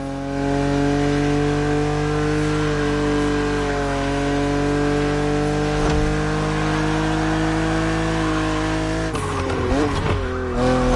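A BMW Z roadster drives in The Crew Motorfest with a loud, sustained engine drone. The pitch shifts smoothly through the gears, then turns rougher and wavering near the end with tire noise.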